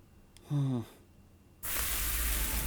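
A short tonal vocal-like sound, then a loud, steady sizzling hiss from the game Nikke kicks in abruptly and continues to the end.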